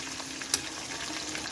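Chicken for lemon chatkhara fried chicken frying in a pan on medium heat, a dense, even sizzle with a couple of brief crackles or utensil clicks, no talk.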